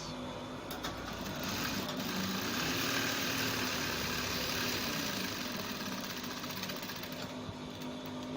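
A sewing machine stitches the folded section of a button-down shirt with a notch collar, its steady close whirring running unbroken throughout with no talk.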